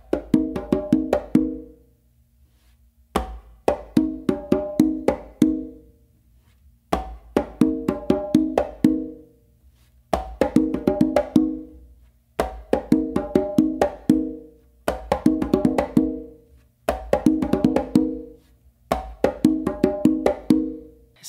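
Congas playing a tumbao pattern with open tones and closed slaps, including opens on the mid drum, repeating in short phrases separated by pauses, crisp and close with no talking.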